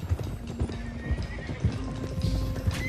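Horses in Red Dead Redemption 2 gallop with rapid rhythmic hoof clops under a high neighing whinny, close and loud, the hoofbeats pounding steadily throughout.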